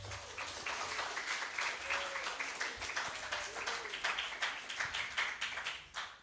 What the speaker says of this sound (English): Please give a last big applause for our seminar today.